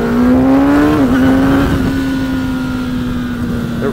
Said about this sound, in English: this is an amazing sounding stock exhaust